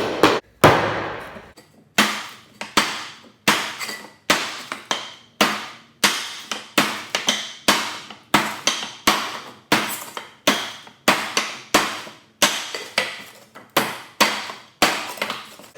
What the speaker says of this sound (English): I'm going to chop at this sideways, and I believe that this is cedar